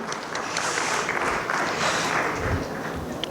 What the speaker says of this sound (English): Let's all give a thunderous round of applause to our panelists.